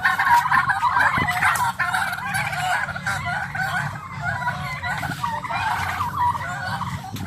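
Agitated fowl squabble at close range on a farm where several roosters are kept, with continuous squawking, clucking and gobble-like calls overlapping throughout.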